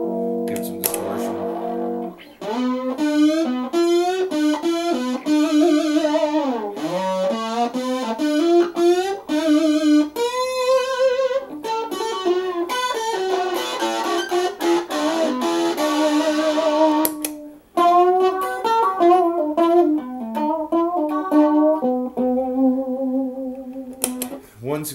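Electric guitar played through a Digitech XP effects pedal set to distortion, a run of sustained, gritty notes and bends ringing out loud and close, with brief gaps between phrases.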